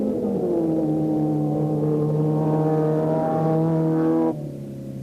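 A Datsun 1600 and a Toyota Cressida fitted with a 327 cubic inch Chevrolet engine race side by side on a sand track, a loud droning engine note rising in pitch for several seconds before abruptly dropping away.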